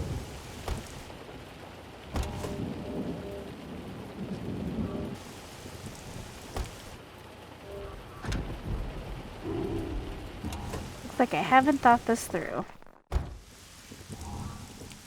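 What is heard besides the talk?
rain and thunder in the video game Mystery Case Files Key to Ravenhearst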